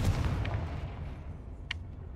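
The Confringo blasting spell fires in the Hogwarts Legacy video game: a broad, rumbling blast fades into noise, and a short, sharp burst pops out near the end.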